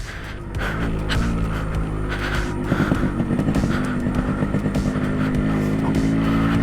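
A lightweight motorcycle's engine rumbles and revs continuously on a flat woodland dirt trail, the pitch rising and falling as the bike rides along, loud and close.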